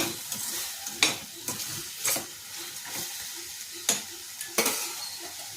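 Beetroot and chickpea gravy frying in a pan after ground masala is added, a steady close sizzle broken by sharp scraping stirs and ladle knocks at irregular intervals, with no talking.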